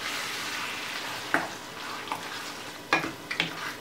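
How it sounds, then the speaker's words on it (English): Spaghetti bolognese sauce is stirred in a pan over a soft sizzle, with a few distinct scraping strokes of the spoon against the pan, close and fairly quiet. "Then give it a nice little stir."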